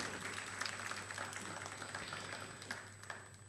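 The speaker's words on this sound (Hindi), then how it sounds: "एक बार जोरदार तालियां चाहिए बजाज साहब के लिए।" An audience at a stage ceremony claps in a dense, sustained round of applause, steady and moderately distant, with no speech over it.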